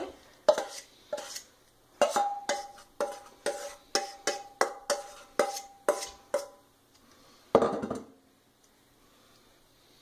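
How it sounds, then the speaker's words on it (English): Kimchi cabbage is tossed with chili powder paste in a bowl: a series of regular clinks and wet knocks, about a dozen close hits spaced roughly half a second apart, with quiet gaps and one louder clatter near the end. "You just want to mix this all together till the cabbage is nicely coated."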